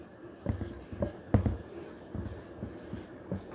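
Marker or chalk strokes on a board in a classroom, a series of short scratchy taps and swipes at close range with a faint background hum.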